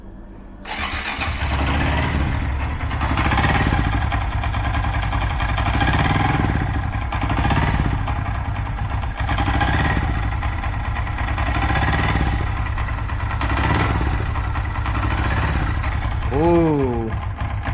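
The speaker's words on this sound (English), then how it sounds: "Now I'm gonna start the bike and see if there is any sound of leaking" A Honda Monkey Z125R motorcycle fitted with a Takekawa exhaust starts up and settles into a steady, close, loud single-cylinder idle with a slight rhythmic pulse, running for over fifteen seconds.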